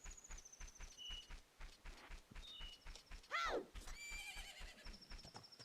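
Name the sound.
horse neighing in a video game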